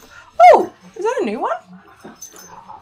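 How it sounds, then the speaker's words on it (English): Two dogs whimpering and yipping in the background, a sharp high yelp followed by a wavering whine, with a person talking over them. "I have two dogs and they're in the background making noise"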